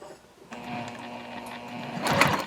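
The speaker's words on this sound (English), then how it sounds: "you'll only be sewing right now through your top panel and through the seam" A sewing machine stitches through the lining and top panel of a zip-top tote bag at a stitch length of 3.5, starting with a whirring motor run and ending in a louder burst near the finish.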